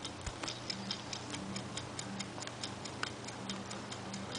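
A camera-lens-shaped kitchen timer ticks steadily and evenly at close range, faint and with no talking, over a quiet room hiss.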